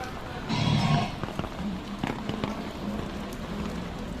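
Rain falling outdoors on a street trip to an e-bike and e-car shop, a steady hiss of drops on surfaces with a brief louder gust early on, under a faint murmur.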